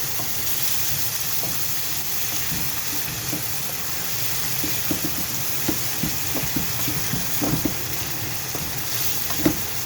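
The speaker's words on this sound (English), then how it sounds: "and the rest of my base gravy is going in. Quick stir." Curry base gravy bubbling and sizzling in a hot pan, a steady close hiss with scattered stirring clicks and spatters that grow busier toward the end.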